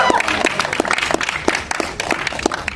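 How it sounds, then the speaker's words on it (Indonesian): A crowd claps for a comedian taking the stage, a dense burst of applause with sharp individual claps standing out, near and lively throughout. "Selanjutnya kita punya tepuk tangan untuk Yono Bakri."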